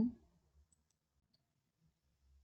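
A single computer mouse click, close and quiet, made while working in an Excel spreadsheet, followed by near silence with faint low background noise.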